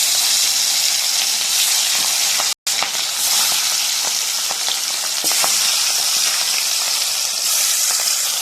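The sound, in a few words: fish frying in hot oil in a wok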